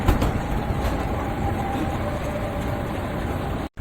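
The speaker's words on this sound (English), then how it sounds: "We took the metro from Neguri, the station nearest, the cruise terminal, and we have got to the town center very quickly." A Bilbao metro train running on its rails, a loud steady rumble with clickety-clack wheel noise and a faint squeal, close by and continuous with a brief dropout near the end.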